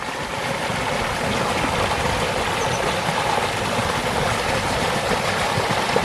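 A small stream feeding a village wash house in Saône-et-Loire, France, gives a steady broadband rush of flowing water, moderately loud and constant, without voices.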